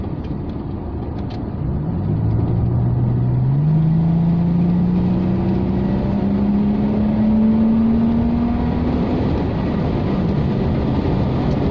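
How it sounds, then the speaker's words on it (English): A Rover 45 V6 engine with a variable intake system revs up from a low idle, its pitch climbing steadily in a long rising drone, close and loud with no talking. "the variable intake system Yeah, that's definitely working because um, at lower RPM, it sounds like two engines."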